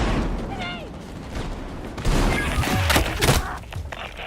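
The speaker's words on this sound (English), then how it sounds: "I hear the gunshots and everything" Gunfire from a shooter video game rings out as scattered sharp cracks and thuds, in a couple of quick bursts partway through, mixed in with other busy game sounds.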